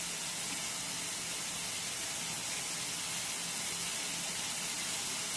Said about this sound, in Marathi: थोड तेल तेल टाकायचं थोडस हिंग टाकायचं आणि हा पत्ता टाकायचा